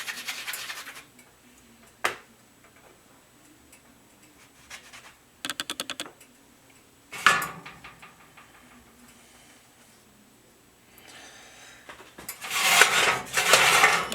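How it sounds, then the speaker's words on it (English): Cutters pressing donut shapes out of rolled, floured dough on a work surface, heard as scattered short scraping and tapping sounds separated by quiet gaps, ending in a denser burst of scraping. "And we can start cutting out our donuts."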